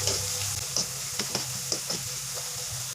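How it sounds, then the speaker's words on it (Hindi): Potato pakoras sizzle in hot oil as they are turned over, a constant close frying hiss broken by several light scraping stirs and soft clicks of the spoon, no talking. "अब मैं इनकी साइड चेंज करूँगी और दूसरी साइड से भी फ्राई कर लूँगी।"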